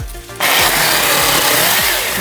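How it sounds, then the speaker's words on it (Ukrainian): A Procraft PKA-38 electric chainsaw spins up abruptly after a brief quiet moment and runs at a loud, steady, close whine while cutting branches. "Давайте зараз спробуємо пилку дану як для обрізки гілок."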